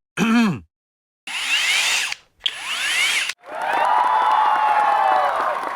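A cordless drill/screwdriver from a tool kit whirs in several close bursts, each motor spin rising in pitch, the last run held longer and steady.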